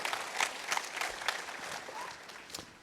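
Audience at a Hadoop Summit 2015 conference session applauds the panel guests, a steady patter of clapping from a moderate crowd that swells early and gradually tapers off.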